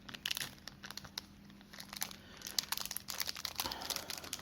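Crinkly plastic packaging on a 2022 Megatin trading card tin being torn and handled up close, a quiet run of crumpling and rustling bursts with a few sharper crackles.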